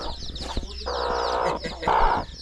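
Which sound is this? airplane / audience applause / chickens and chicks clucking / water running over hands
chickens and chicks clucking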